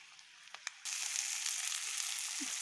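Eggs browning in oil in a pan, a low sizzle that jumps to a loud, steady hiss partway through as they hit the hot oil, with a couple of small knocks beforehand.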